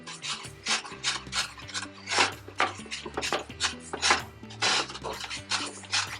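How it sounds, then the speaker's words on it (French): Repeated scraping and rasping strokes of a spoon stirring sugar in a saucepan to caramelise coconut, steady and rhythmic, with a low tonal hum underneath. "on remue, hein, sans arrêt."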